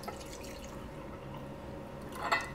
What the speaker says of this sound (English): Now I'll put some of our coffee.